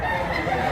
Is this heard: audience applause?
no